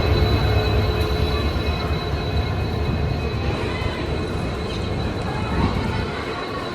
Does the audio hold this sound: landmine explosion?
no